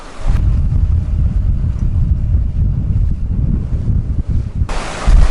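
Strong wind on a choppy day at sea off the Amalfi Coast, roaring and buffeting hard against the microphone, heavy and continuous throughout with gusts surging at the start and end.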